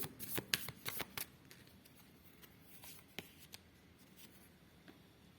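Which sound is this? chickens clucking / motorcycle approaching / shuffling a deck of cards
shuffling a deck of cards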